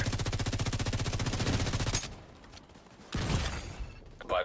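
Rapid automatic gunfire in a video game, a fast steady burst that stops abruptly, then scattered further shots and impacts.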